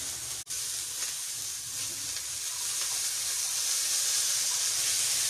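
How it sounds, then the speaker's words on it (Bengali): Meat coated in turmeric fries in hot oil with onions in a pan, a continuous close hiss and sizzle that holds steady after a brief drop near the start. "যেভাবে মাছ ভাজা সেরকম ভেজে দেবো মাংসটাকে।"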